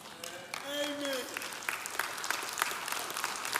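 Church congregation applause in a sermon setting, a broad wash of clapping that swells and carries through the clip, with a spoken voice faintly underneath early on.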